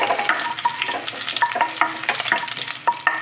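Chillies and curry leaves frying in hot oil for a bottle gourd buttermilk curry, a close, steady sizzle broken by sharp crackles and pops as a spoon stirs through the pan.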